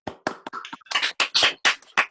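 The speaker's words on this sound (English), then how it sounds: "Everyone unmute and applaud." Scattered, uneven claps and taps from online meeting participants applauding over a video call, each burst short and distinct, with silent gaps between them.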